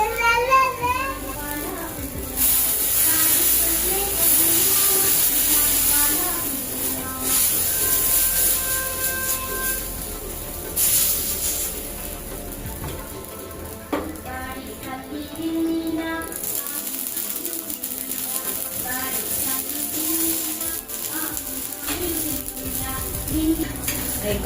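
Moong dosa roasting in oil on a pan over a medium flame, a steady soft sizzle running throughout with occasional light scrapes and clinks of utensils, a voice faintly audible in the background.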